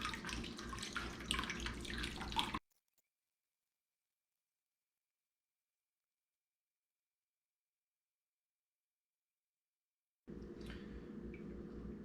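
Water pours steadily from a refrigerator water dispenser into a container, a continuous splashing stream that cuts out abruptly, falls silent for several seconds, then resumes.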